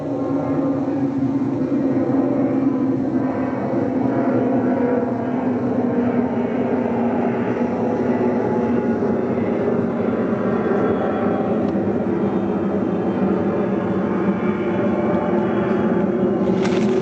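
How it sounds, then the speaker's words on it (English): A low, steady roar of an airplane passing overhead fills the air throughout, broad and continuous, neither rising nor fading much. "Got a nice airplane overhead."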